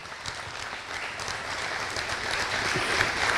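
Church congregation applauds, a dense continuous wash of clapping that swells gradually louder over a few seconds, with no talk over it.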